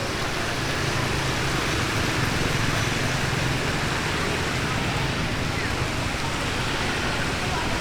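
Steady, unbroken roar of rushing water from a waterfall where people gather in Vietnam, loud and constant throughout with no clear breaks.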